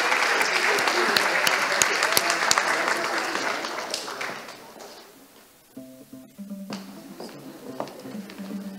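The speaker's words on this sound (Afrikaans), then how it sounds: "Ons geef vir een lekker hande klap" An audience at a Hoërskool Durbanville Uitstapdag school event claps by hand in a dense, loud burst lasting about five seconds, then fades out. Quieter sounds follow afterwards.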